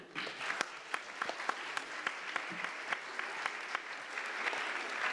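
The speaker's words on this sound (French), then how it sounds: "Merci de l'applaudir." Audience at a law evening event applauds a psychologist as she is introduced: moderately soft, steady clapping with a few distinct nearby claps standing out, lasting about five seconds.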